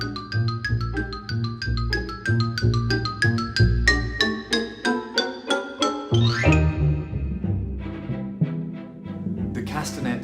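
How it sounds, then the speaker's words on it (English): A xylophone plays a quick run of bright, ringing struck notes in a steady rhythm, then a rising glissando and a few scattered notes. "Xylophone, also a pitched instrument."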